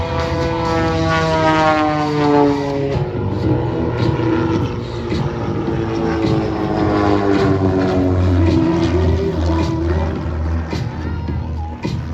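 Propeller airplane flying at the Oshkosh AirVenture airshow, its loud droning engine shifting pitch as it passes, with sweeping tones falling and a steady rumble throughout, continuous for about twelve seconds.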